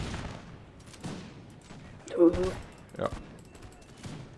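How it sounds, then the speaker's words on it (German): A musket volley crackles in a Napoleon: Total War battle, a short burst of rough bangs rising mid-clip amid lighter battlefield noise, while someone talks over it. "Das war eine massige Salve."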